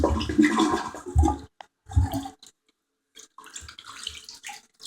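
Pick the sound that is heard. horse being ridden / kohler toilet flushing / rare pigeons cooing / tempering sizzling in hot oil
kohler toilet flushing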